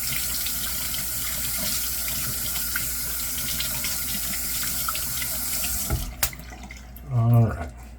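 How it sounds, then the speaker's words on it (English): Running tap water fills and splashes into a sink or bowl while a shaving brush is wetted, a steady close rush that cuts off abruptly, followed by a brief swish and a few drips. "now I'm going to wet this brush"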